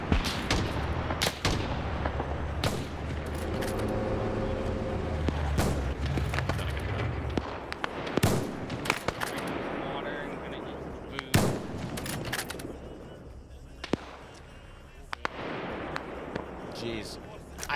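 Chaotic war game battle with a steady stream of close and distant gunshots, HE shell explosions and artillery booms, dense and continuous, with voices talking over the combat.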